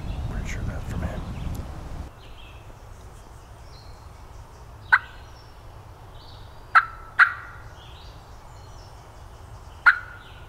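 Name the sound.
wild turkey gobbling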